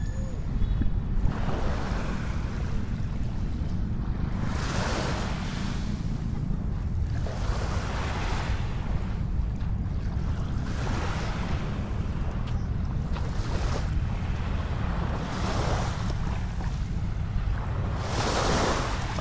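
Sea waves washing onto the shore of Manila Bay in Manila, a steady low roar with repeated surges of surf breaking every few seconds, mixed with wind buffeting the microphone.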